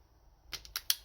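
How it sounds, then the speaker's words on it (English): Wire cutters snip insulation off a wire while fitting a Motogadget m.unit blue: three sharp, close clicks in a quiet room, with no talking. "you would get your wire cutters, and you can snip a little bit of insulation off"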